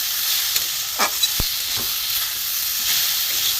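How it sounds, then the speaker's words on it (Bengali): Spices frying in a pan for a river fish curry, a steady close hiss with a few scraping knocks of a spoon, no talk. "সব দিয়ে দেবো মশলা দিয়ে একটু ভালো করে কষে নেব"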